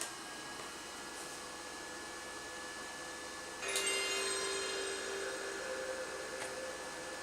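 An Auna LED-6 video projector powers up: a steady fan hiss fills the room, then steps up slightly louder a few seconds in, with a faint electronic whine running under the constant airflow.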